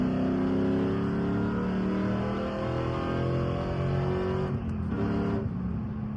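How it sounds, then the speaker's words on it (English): A supercharged 4.6-litre 3-valve Ford Mustang engine roars steadily under hard acceleration in third gear, with a thin rising supercharger whine riding above the engine note near the top of the revs. "You hear a little blower whine up at the top end."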